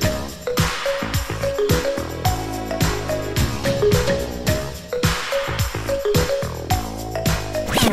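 A cover version of a song plays loud and full, with a punchy, steady drum beat driving under bright synth-pop layers throughout.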